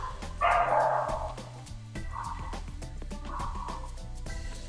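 Dogs bark in a hall, one loud nearby bark followed by two fainter, more distant yaps, all set against a low background hum.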